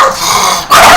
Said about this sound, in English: The dog is upset.